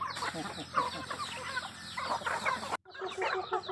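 Fighting cocks kept on a rural family home in Thailand cluck and call in irregular bursts, fairly close, with a brief cut near the end and faint background ambience.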